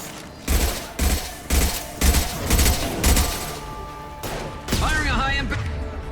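Repeated loud gunshots ring out in Mass Effect 2 Legendary Edition, a rhythmic run of about five heavy blasts followed by more fire and a rising synthetic whine, with a voice speaking between them.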